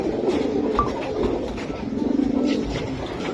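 Giribaz pigeons kept as flying birds coo softly in a repeating low murmur, with a few brief chirps, set against a steady background hum and no speech.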